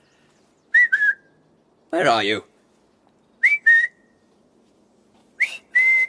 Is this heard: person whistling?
yes